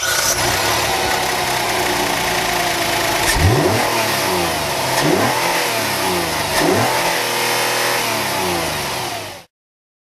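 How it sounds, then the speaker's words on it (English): Hyundai Palisade engine running in the engine bay, idling steadily with several brief revs rising and falling, close and loud with no talking. "And now we'll have a listen to the engine."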